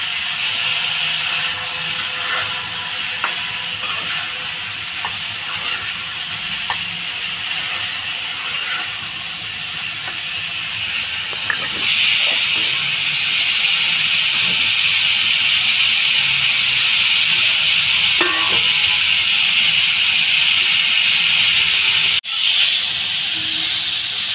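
Steady loud hiss of potato and eggplant curry with ground coriander and cumin sautéing in a pan, with occasional faint clicks of stirring, continuous and close with no talking.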